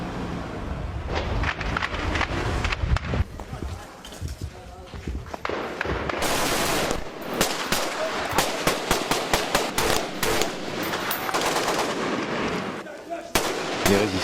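Gunfire and tank cannon shots ring out during street fighting in Libya, a rapid string of sharp cracks and heavier booms, loud and close, with a voice talking over part of it.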